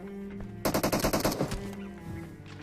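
Rapid burst of automatic gunfire in PUBG on the Erangel map, about a dozen sharp close shots in quick rhythm, loud and dry, then a short decaying tail with no talk.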